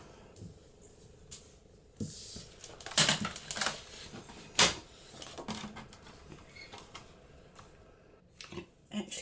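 Scissors snipping stitching thread on a paper junk journal, a few faint close crisp cuts and rustles spread over quiet handling noise, with soft talking.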